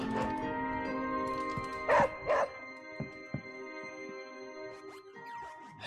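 A puppy in the video game Marvel's Midnight Suns barks, yips and whimpers over a steady ambient game soundtrack, with a couple of louder yelps early on and softer whines after.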